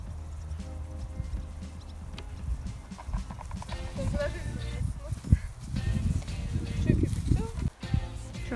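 A pony's hooves clip-clop unevenly on the ground at close range while people talk over them, during a summer outing where a young lynx meets horses.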